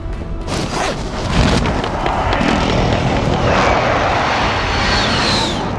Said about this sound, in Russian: Авиаудар противника в укрытие!